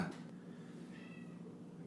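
A pet cat gives a faint, drawn-out meow in a quiet indoor room, one soft call alone with low background hum.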